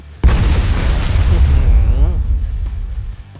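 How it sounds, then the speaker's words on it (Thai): A sudden loud bomb blast in the video game CryoFall, followed by a long roaring rumble that slowly fades while a voice briefly sounds underneath. "เดี๋ยวผมขอไประเบิดบ้านชาวบ้านก่อน"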